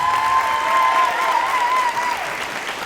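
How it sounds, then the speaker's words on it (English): An audience at a high school letter-of-intent signing applauds in a steady, dense wash of clapping that carries on for the full stretch and eases slightly near the end, with a faint tonal hum underneath. "let's give him a round of applause"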